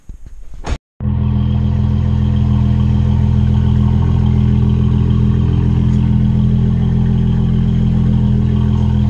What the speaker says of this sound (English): I'll turn on the car and put it in reverse